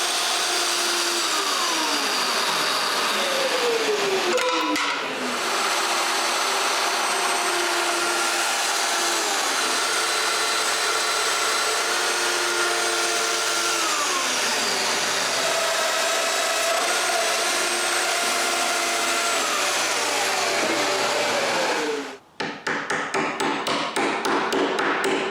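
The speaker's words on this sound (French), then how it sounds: "J'ai juste à percer d'autres mortaises pour tenir les traverses du haut en place maintenant." A domino joiner cuts mortises into wood for the upper rails of a closed bookcase, a steady loud whirring cut with a vacuum-like hiss lasting about twenty seconds, broken by a brief pause near the start and ending abruptly.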